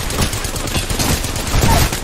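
Dense, continuous automatic gunfire from a battle-royale shooter match, loud and close with bursts overlapping throughout and no pauses, a brief higher chirp near the end.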